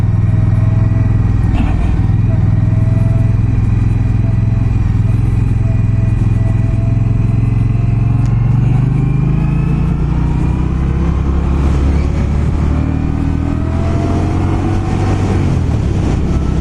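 An Indian Scout Bobber motorcycle engine drones steadily while riding, a loud close rumble with gradual rises and dips in pitch as the throttle changes, with no talking.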